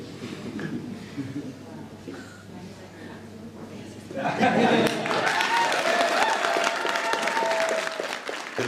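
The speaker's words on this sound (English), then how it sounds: "There was a big round of applause for" Applause bursts out loud and dense about halfway through, following a Mahler symphony performance at a museum; before it, a quieter stretch of murmuring and talk fills the hall.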